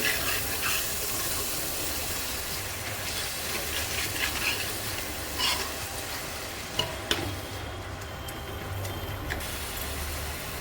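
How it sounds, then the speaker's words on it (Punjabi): Spices and tomato puree are stirred in a pan for a mushroom and pea curry, a steady close sizzle with soft scraping and a few light knocks, no talk. "ਟਮਾਟਰਾਂ ਦੀ ਪਿਊਰੀ ਤੇ ਹੁਣ ਅਸੀਂ ਇਹਨੂੰ ਮਿਕਸ ਕਰ ਦੇਵਾਂਗੇ ਸਾਰੇ ਮਸਾਲੇ ਨੂੰ"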